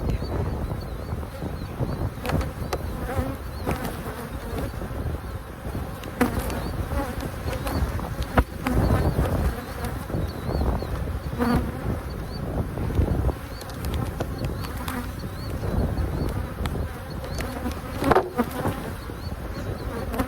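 A dense, steady drone of many honey bees buzzing close by at an open hive during a beekeeping inspection, continuous throughout with occasional louder swells and knocks.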